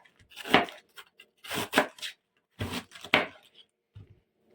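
A knife chops on a cutting board in quick irregular bursts of cuts, close and fairly quiet, with short pauses between.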